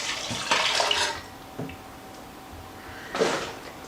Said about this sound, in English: You're going to pour them into a mixing bowl gently.